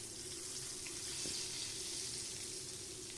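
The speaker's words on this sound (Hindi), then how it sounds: "तो तड़के की आवाज़ आपने सुन ली।" Hot oil tadka tempering for a gosht meat dish sizzles in a steady, dense hiss throughout, close and fairly loud with no pauses or talk.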